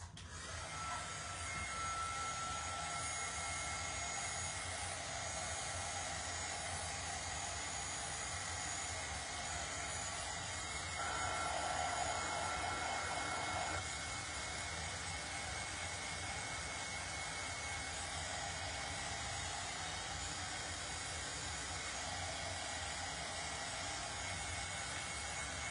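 A hair dryer blows steadily at close range while drying a patriotic craft decoration, a continuous loud whooshing hum lasting the whole stretch with a slight shift in pitch midway, no voices.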